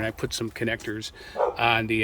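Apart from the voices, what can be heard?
neighbour's dog barking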